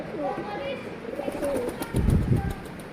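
Near and soft, Van pigeons coo in repeated throaty bursts, with a few thumps and someone speaking around them.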